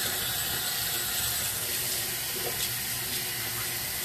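A tap runs warm water for face washing during a double cleanse, a continuous close, full rushing hiss with no pauses.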